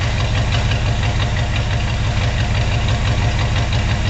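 Steady, loud rumble of a 1964 Acadian Beaumont Sport V8 idling, a deep throbbing pulse from its dual exhaust, close and unbroken throughout.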